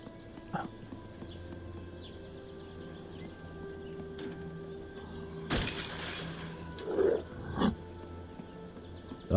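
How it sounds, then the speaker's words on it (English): In the zombie survival game HumanitZ, a dog attacks amid a sudden loud burst of snarling and crashing noise, with growl-like bursts following over a low hum of game ambience. "oh my god, that's a dog."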